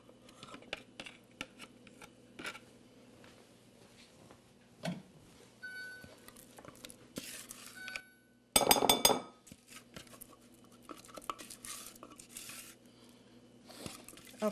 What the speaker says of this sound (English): Take out that blade.